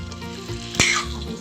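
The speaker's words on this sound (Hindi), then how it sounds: "अब इसको हम 2 मिनट मीडियम फ्लेम में पकने देंगे।" Chicken fries in a pan over a medium flame for a village-style chicken jhol, giving a close, steady sizzle with one sharp crackling burst partway through.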